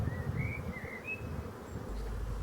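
Honeybees hum at a hive frame, a low, moderately faint buzzing drone with a few thin, high whines of individual bees flying past.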